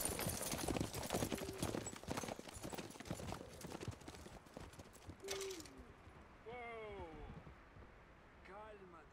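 Horses gallop in Red Dead Redemption II, a dense clatter of hooves that fades after a few seconds, followed by a few short whinnies, with voices talking over it.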